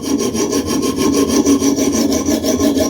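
A Cold Steel Tanto knife blade is stroked back and forth on a coarse 200/160 diamond sharpening stone with a copper-tin bond, giving a steady rhythmic gritty rasp, close and alone.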